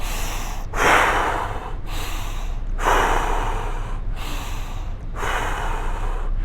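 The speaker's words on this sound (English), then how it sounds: "So now you're into that power breathing, that nose to mouth." Power breathing, drawn in through the nose and pushed out through the mouth, comes as three strong, close breath cycles, each a rushing inhale followed by a forceful exhale, steady and rhythmic with no talking.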